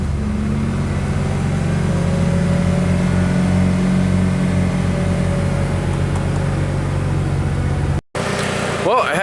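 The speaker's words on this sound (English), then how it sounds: "Rev it up a little bit." A Nissan car engine with a seized A/C clutch idles and revs steadily at close range, its low mechanical drone holding through most of the clip before cutting off abruptly near the end.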